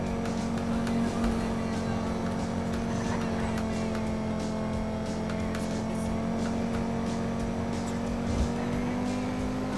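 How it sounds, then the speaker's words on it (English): Police car in GTA V driven hard on dry roads, its steady engine drone holding a constant pitch throughout with a continuous loud hum and no speech. "I don't drive this vehicle often, so I'm putting it to the test, seeing what kind of speeds we can do in it"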